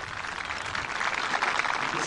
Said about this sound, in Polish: Dziękujemy bardzo, gorące brawa